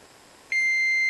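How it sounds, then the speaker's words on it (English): A buzzer on an Arduino collision-warning circuit with a TOF10120 laser range sensor starts halfway through and holds a steady, loud, piercing electronic tone to the end, over a quiet room. "my buzzer goes off"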